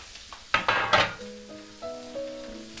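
Raw chicken sizzles in hot fat in a pan for a fricassee, with a few loud, close bursts of crackling that quickly fade beneath a steady ringing tone.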